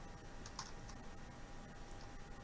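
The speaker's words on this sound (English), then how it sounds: "And then I type in my keywords" Soft, quiet keystrokes on a computer keyboard as search keywords are entered into a database, a few light clicks scattered over a steady low background hiss.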